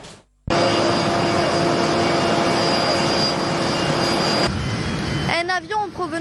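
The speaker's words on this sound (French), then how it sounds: "Un avion en provenance de Londres vient d'atterrir à l'aéroport international Houari Boumedienne." A passenger plane arriving from London lands at Houari Boumediene International Airport: after a brief quiet moment, a loud, steady jet roar holds for about four seconds, then drops away as a voice starts speaking.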